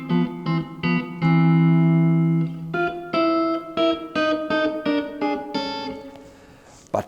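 Guitar tritone guide tones resolving in a classical style: a few sustained two-note intervals followed by a run of plucked notes, clear and close, ending in a ringing decay.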